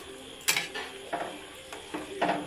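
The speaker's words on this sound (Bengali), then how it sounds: "এবারে আস্তে আস্তে জলটা ঢেলে দিতে হবে আর হালকাভাবে নেড়ে দেবেন জাস্ট।" Chicken curry in a home kitchen as water goes in and a utensil stirs it, giving a handful of distinct scraping, clinking strokes against the pot at an uneven rhythm, close and fairly quiet with no talk.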